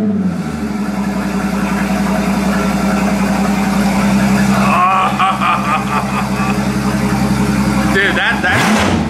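A straight-piped Mercedes S65 AMG with a 6.0L V12 idles: a loud, deep, steady drone with a brief throttle blip near the end, close by, with people talking over it.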